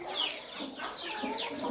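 A chicken clucks close by in a backyard run, with a run of short, throaty clucks repeating through the moment and no talking.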